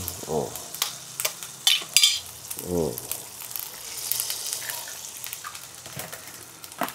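An egg fries in a pan beside instant pancit canton, giving a soft, continuous sizzle with occasional utensil clatter. A voice can be heard briefly over it.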